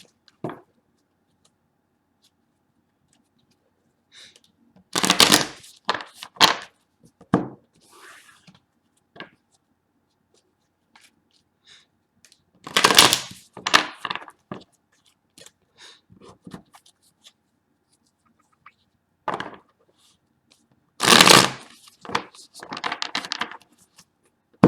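Bursts of papery tarot card riffling in three separate clusters, each a few seconds long, with quiet pauses between them and faint taps scattered throughout.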